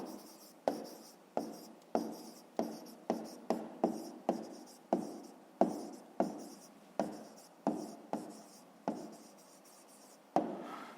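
Handwriting on paper during a fifth-grade maths exercise, with a steady series of close, distinct pen strokes and taps repeating across the whole stretch, heard alone with no talk.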